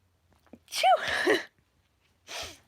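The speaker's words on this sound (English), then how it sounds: "I don't know if I've ever sneezed on a live." A single sharp sneeze with a breathy intake before it, followed by a pause and a softer exhale or sniff near the end.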